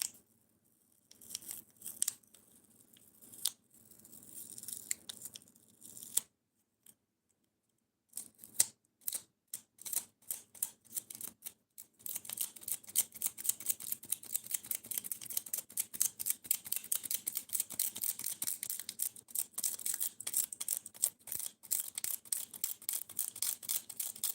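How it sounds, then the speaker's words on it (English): Sticker residue being scraped off a knife blade: a sparse start, then a long run of quick, steady, rhythmic scraping strokes close up, with no talking. "Gotta try and get some sticker residue off."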